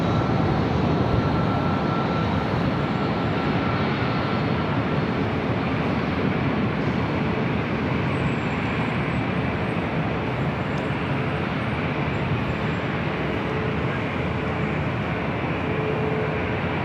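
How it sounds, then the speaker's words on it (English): A NetJets Cessna Citation Latitude business jet arriving at LAX from San Jose, California, makes a continuous, moderately loud engine roar that stays level throughout, with no talking. "This Cessna citation latitude coming in from San Jose, California, NetJets"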